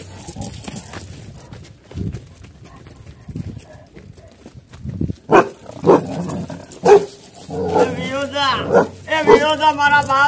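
Dog barks in a village setting, several sharp yelps coming in bursts during the second half, mixed with people talking and some rustling.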